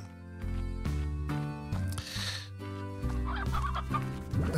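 Clucking game chickens in Slime Rancher sit under a run of layered, steady musical notes, the bird sounds brief and close against the tones.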